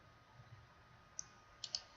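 Two or three sharp computer mouse clicks, a single one followed by a quick pair, while navigating an admin page, faint and isolated over quiet room hiss with no talking.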